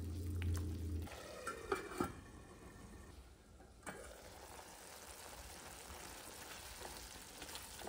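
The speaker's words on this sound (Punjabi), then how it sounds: "ਸੇਕ ਨੂੰ ਤੇਜ਼ ਕਰ ਦਾਂਗੇ। ਮਸਾਲਿਆਂ ਨੂੰ 5-7 ਮਿੰਟ ਲਈ ਪਕਾ ਲਾਂਗੇ।" Masala spices cooking in a pan over high heat for dhaba-style methi matar malai, a steady soft sizzle and frying hiss with a few louder stirring scrapes and clinks early on, no talking.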